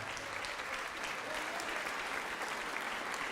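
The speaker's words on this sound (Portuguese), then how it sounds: "Vamos aplaudir mais ao nome de Jesus." Congregation applause in a church service, a dense, steady wash of many hands clapping together without letup, moderately loud and filling the room.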